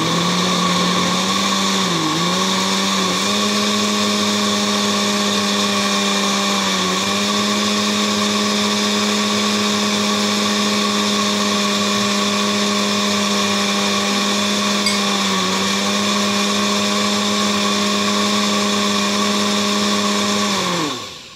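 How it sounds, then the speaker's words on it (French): A kitchen blender runs loud and continuous at speed 2 while mixing chocolate cake batter, its motor whine holding steady with brief pitch dips before cutting off at the end. "on a mis sur le mixeur et maintenant, on va tourner jusqu'à 2."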